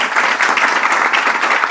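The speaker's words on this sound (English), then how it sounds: "Give him a big round of applause." Loud, full applause from a gathered audience at a spiritual discourse on Krishna, a continuous dense roar of many hands clapping close by with no pause.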